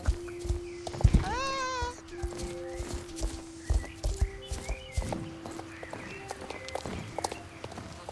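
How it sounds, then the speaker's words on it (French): Horse hooves clip-clopping in the online video game Star Stable, a steady galloping patter with a brief neigh-like whinny, under game music and a short spoken interjection. "mon cheval, il est endurant, hein, parce que ça doit faire 3 heures qu'il galope non-stop."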